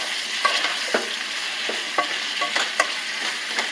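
Salted onions are being mixed, with a utensil scraping and tapping against the container in irregular strokes over a soft, constant sizzle. The sound is close and there is no talk.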